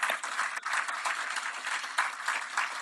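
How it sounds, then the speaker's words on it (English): An audience at the launch of the India–Singapore UPI payment systems linkage breaks into a round of applause, steady and fairly soft, heard from a distance for the whole stretch. "How about a big round of applause for this massive feat?"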